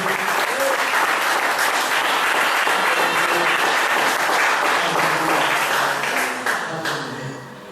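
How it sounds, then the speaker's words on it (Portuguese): A church congregation gives God a loud, sustained round of applause, dense crowd clapping filling the room and fading slightly at the end. "Você pode dar uma salva de palmas para o nosso Deus"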